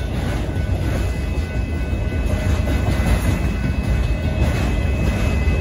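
Northbound Union Pacific auto train rolling past at a road crossing, led by CSX locomotive 5292, a loud, steady rumble and rail roar throughout with faint clatter, close by.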